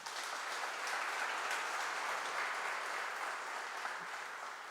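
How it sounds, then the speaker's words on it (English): Distant, fairly soft applause from an audience welcoming a speaker on stage at a corporate event, a steady wash of clapping with no voices over it. "please join me in welcoming this legend of entrepreneurship with a"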